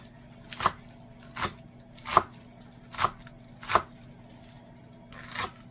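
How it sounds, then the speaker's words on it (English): A knife chops green onions into thin slices on a board: six crisp, evenly spaced chops, close and clear over a quiet background with no talking. "a little bit of green onion on our pizza? I'm going to cut them nice and thin."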